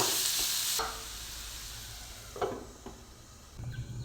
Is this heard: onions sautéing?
yes